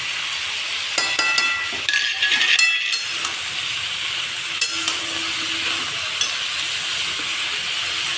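Ground cumin, coriander, chilli powder, turmeric and salt are stir-fried in a pan for a labra vegetable dish, giving a steady hiss and sizzle with a cluster of spatula scrapes and clinks early on, then quieter sizzling.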